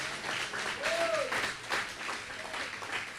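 Congregation applauding in a church during a Portuguese-language sermon, a continuous moderate wash of clapping with a brief sung or spoken voice rising over it.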